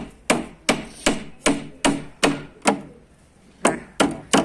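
Hammering nails into a wooden cabinet for Adana pigeons, ten sharp, loud, close hammer strikes at a fairly even pace with one short pause, each blow ringing briefly on the wood.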